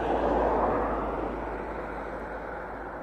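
Airliner taxiing at East Midlands Airport, a broad, distant jet engine rumble that swells briefly and then gradually fades, with no talking.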